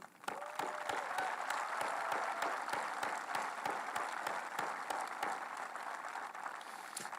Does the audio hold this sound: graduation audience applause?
yes